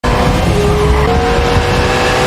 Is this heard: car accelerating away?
yes